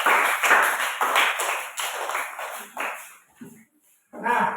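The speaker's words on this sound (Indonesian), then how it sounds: "Berikan tepuk tangan" A classroom group applauding in quick rhythmic bursts of clapping that fade out, fall briefly silent, then start up again with a short loud burst at the end.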